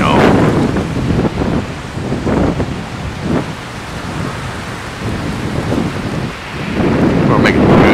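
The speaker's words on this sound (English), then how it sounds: "Good winds. Real good winds." Strong winter storm winds gust and roar hard against the microphone during snowfall, a loud rumbling buffeting that surges and eases over several seconds, with a brief voice heard faintly.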